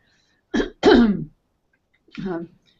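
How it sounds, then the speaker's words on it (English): Three short throat-clearing bursts, close and fairly loud, separated by brief silences. "I apologize for clearing my throat."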